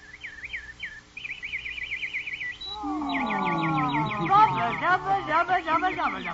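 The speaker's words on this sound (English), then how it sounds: "Nightingale, sing." A nightingale's song in an old-time radio drama, made of rapid repeated chirps and trills that grow into an elaborate warbling passage, with a sustained voice or instrument tone running under the later phrases.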